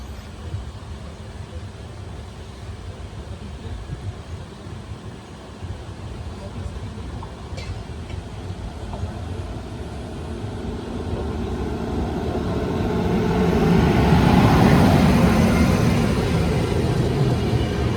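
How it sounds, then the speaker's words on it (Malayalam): A Mangalore to Chennai train approaches and passes alongside a stopped train, its rumble swelling from a steady background roar to a louder wash near the end. "മാംഗ്ലൂരിൽ നിന്ന് ചെന്നൈയിലേക്ക് പോകുന്ന ട്രെയിനാണ്."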